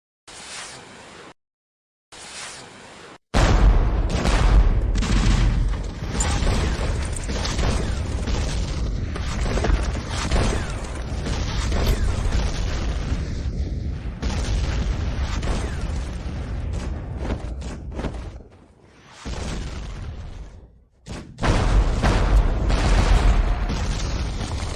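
A volley of firearms discharges during a period-drama battle charge, heavy booming blasts packed close together in a loud, sustained barrage with brief gaps and faint shouting beneath.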